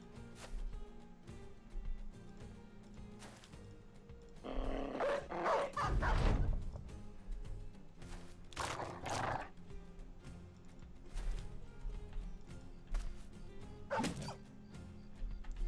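Loud dog barks in the medieval video game Battle Brothers, two bursts standing out from a busy game soundscape with sharp hits and effects.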